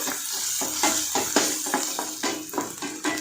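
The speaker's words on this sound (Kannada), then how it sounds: "ಸಣ್ಣಗೆ ಹೆಚ್ಚಿರೋಂಥ ಈರುಳ್ಳಿ ಎಣ್ಣೆಲಿ ಚೆನ್ನಾಗಿ ಫ್ರೈ ಮಾಡ್ಕೊಳ್ಬೇಕು" Finely chopped onions fry in oil in a pan with a steady sizzle, broken by repeated scraping strokes of a spoon stirring them, close and moderately loud with no talk.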